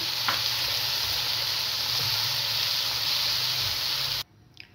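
Tomatoes frying with ginger garlic paste in a pan for gobi kofta masala, giving a steady, loud close sizzle that cuts off abruptly near the end.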